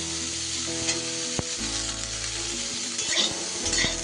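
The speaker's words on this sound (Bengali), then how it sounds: "একটু কড়াই নাড়াচাড়া করা হয়ে গেছে" Broccoli and fish are stirred in a wok over steady, loud frying and sizzling, with occasional clinks and scrapes from the utensil against the pan, and no one speaking.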